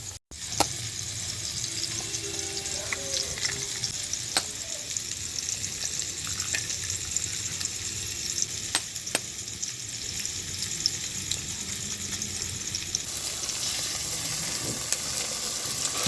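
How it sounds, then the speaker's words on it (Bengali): Egg and onion scramble fries in a pan for a kachori filling, giving a steady close sizzle and hiss throughout, with occasional sharp clicks of a spatula and a slightly louder stretch toward the end; no one speaks. "এবার এটাকে ডিম আর পেঁয়াজের ঝুড়ো বানানো হবে"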